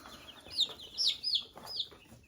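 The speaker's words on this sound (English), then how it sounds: "This is our little runt hen." A small runt hen clucks close by, four or five short, high, rising calls in an uneven rhythm over quiet farmyard background.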